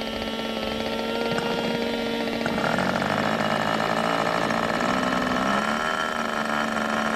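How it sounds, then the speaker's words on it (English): A small model airplane engine drones steadily at high revs on the ground, its buzzing pitch shifting slightly partway through, loud and continuous with no talking. "Nice running engine you have there."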